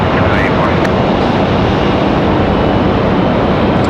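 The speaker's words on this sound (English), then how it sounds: "JetBlue 2184, that's A220 ready to roll." JetBlue Airbus A220 airliner powering up for takeoff at Raleigh-Durham International, a loud, steady broadband engine roar filling the whole stretch without letup.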